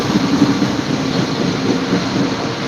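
A loud, rumbling freight train roars past up close, with a dense wash of rolling noise and faint rhythmic clatter from the wheels.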